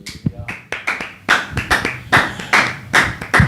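A church congregation claps in applause for Jesus. Sharp, close handclaps come in an uneven, quickening rhythm over a few seconds.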